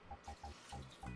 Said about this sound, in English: we're gonna add water